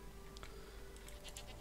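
Short goat bleats from Stardew Valley, a couple of brief high cries over a steady low game-music hum, faint and close-miked.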